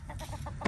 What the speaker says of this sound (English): Persimmon Phil, the rooster over there that's getting his grub on.